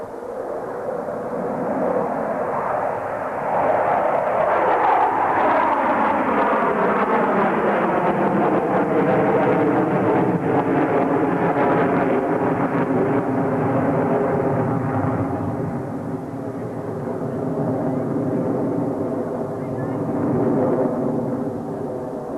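Blue Angels jets roar continuously at a 1987 airshow at Carswell Air Force Base while flying the Diamond Dirty Loop, a loud, rumbling jet engine wash that swells and slowly shifts in pitch as the formation passes.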